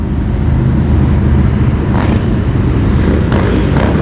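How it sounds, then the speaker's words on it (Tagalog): Big motorbikes roll past on a street in Australia over a constant traffic rumble, with a brighter engine surge near the two-second mark and another late in the clip. "Ito mga big bike na naman."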